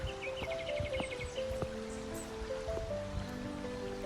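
Koodlutheertha waterfall rushes faintly in the distance as a soft, steady wash of water, with scattered birdsong and small rustles over it.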